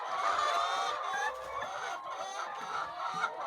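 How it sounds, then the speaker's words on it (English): Laying hens on a small poultry farm cluck and murmur continuously at close range for a few seconds, forming a dense overlapping flock chatter with no talking. "So those are our birds"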